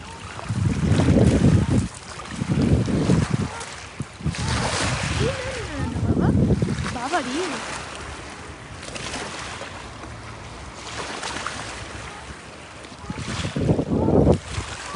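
Rhine river water surging onto the bank, a loud continuous rush with repeated swells and gusty wind buffeting the microphone, while people talk nearby.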